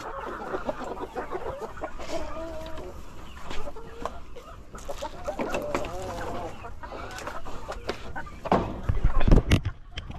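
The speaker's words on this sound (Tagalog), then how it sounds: "Ayan mga kanaypi, nandito na yung mga nangingitlog nating manok." Egg-laying hens clucking close by in a farmyard, a steady run of overlapping clucks and calls with scattered louder squawks, and a brief burst of handling noise near the end.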